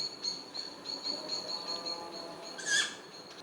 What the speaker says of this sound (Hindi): चिड़िया की आवाज़ जो है एकदम एक एक पॉइंटिंग में आ रही है।